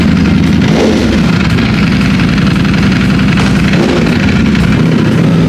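A Ducati motorcycle engine runs loud and close, idling with a rough rumble and brief rises in revs, no voices.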